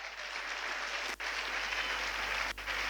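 A church congregation claps and cheers during a French-language sermon, dense sustained applause filling the room, with two brief dips in the middle.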